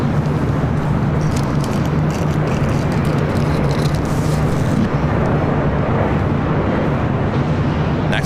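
A United Boeing 787-10 Dreamliner takes off from the south side of LAX, a loud, steady roar of jet engines that holds through the whole stretch with wind buffeting the microphone.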